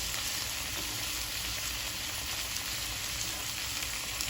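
Shrimp sear in butter in a hot pan, giving a steady, dense sizzle that runs unbroken, close and moderately loud, with no talk.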